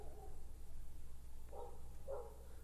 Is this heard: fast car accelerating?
no